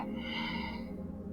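A long, steady exhale during a yoga exercise, a soft airy breath held close to the microphone for over a second without words.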